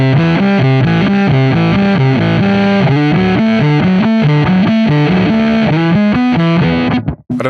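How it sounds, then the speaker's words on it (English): A fuzz-laden bass guitar noodles through a Saratov M50 amp model in STL Tones AmpHub, thick and distorted, with a busy run of notes that stops abruptly near the end. "the way that the fuzz is interacting with the Saratov does sound like how a real fuzz interacts with a real amp"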